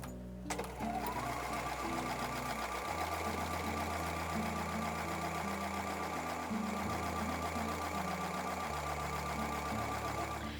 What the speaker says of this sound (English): I'm going to sew a 1/4 inch seam on both sides of that drawn line